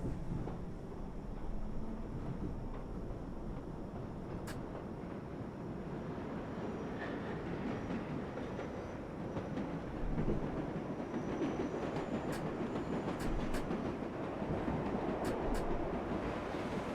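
A number 7 local subway train in World of Subways 4 runs with a continuous rolling rumble and rattling car noise, steady and fairly loud throughout, with a few faint high squeals and no talking.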